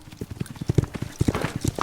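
Galloping hooves of Mongol horse archers in the Age of Empires IV video game, a steady rapid run of close clip-clops growing busier and louder toward the end, with no voices.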